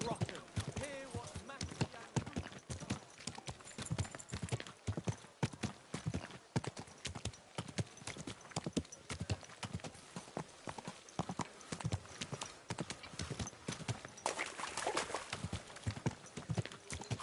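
In Kingdom Come Deliverance 2, a horse's hooves clip-clop in a steady, brisk rhythm that runs continuously. Occasional faint talk sits underneath.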